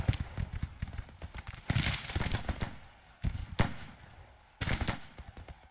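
Civil War infantry volleys in the strategy game Grand Tactician at Champion Hill, with bursts of crackling musket fire rolling in several waves and scattered single shots and thumps between them, moderately distant.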